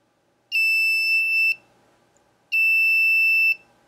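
An Arduino-controlled alarm buzzer sounds two loud, steady, piercing beeps, each lasting about a second and separated by a second of near silence, with no talking.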